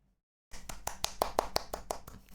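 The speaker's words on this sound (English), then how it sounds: "That's me clapping my hands" Hands clap close to the microphone, about a dozen sharp, fairly even claps in quick succession after a short silence.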